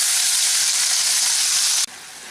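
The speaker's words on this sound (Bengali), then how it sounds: "এবারে আমি যে আদা পেঁয়াজ রসুনটা পেস্ট করে নিয়েছিলাম সেটা দিয়ে দিলাম" Ginger, onion and garlic paste hitting hot spiced oil in a pan, a loud, steady close sizzle that drops off sharply near the end, with no talking.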